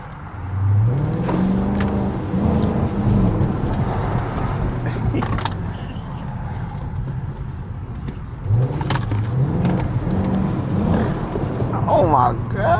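Chrysler 300 Hemi V8 with a muffler delete, revved in two loud rising bursts that fall back to a rough, rumbling idle, heard close up while someone talks over it.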